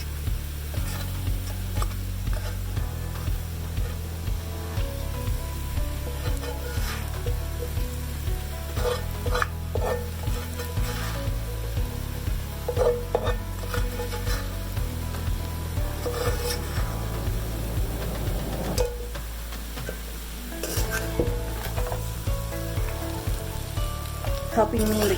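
Previously cooked mutton frying with potatoes in a pan, a constant close sizzle broken by rhythmic scraping stirs, with a brief softer lull near the end, no talking.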